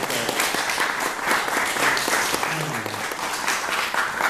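Wedding reception guests break into steady, full applause after a toast, a continuous wash of many hands clapping across the room, with some voices underneath.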